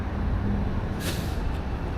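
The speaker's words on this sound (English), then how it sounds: "I heard the brake." A bus idles with a deep rumble, then a short, sharp hiss of air brakes bursts out partway through.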